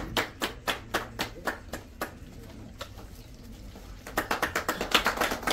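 Audience applause at an award ceremony, a run of crisp, fairly close hand claps that fades after a few seconds, pauses, then returns as a brighter, denser burst of clapping.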